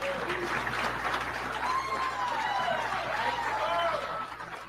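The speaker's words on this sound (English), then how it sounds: "Listen to that applause, Bakari." Applause for Deion Sanders, a dense, steady patter of clapping from a crowd, heard at moderate distance and holding evenly before thinning slightly at the end, with faint overlapping voices.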